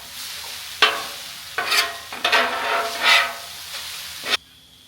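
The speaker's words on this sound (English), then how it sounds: "Now, let's mix all of this together. Some of those noodles get a little bit crispy." Chicken ramen noodles being stirred and fried on a griddle, some crisping: scraping spatula strokes in bursts over a steady, fairly loud sizzle, with no talking.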